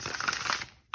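Tarot cards shuffled by hand, giving a close, dry riffling rustle over most of a second before a brief pause and a sharp final flick.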